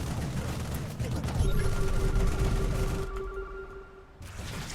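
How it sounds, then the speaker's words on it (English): Rapid automatic turret fire in a StarCraft II 2v2 match, a dense rattling barrage with booms and a sustained tone running through the middle, loud and continuous under game effects. "As these auto turrets go to work."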